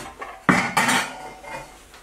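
A pot being handled in a home kitchen for baking, with two sharp metallic clanks close together followed by fainter rattles and a soft knock, close by.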